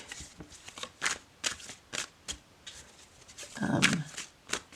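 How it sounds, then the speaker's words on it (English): Tarot cards being shuffled overhand, a quick series of soft papery slaps in an uneven rhythm, close up, ending in a fuller riffle-like rustle. "let's do a quick shuffle test. So overhand"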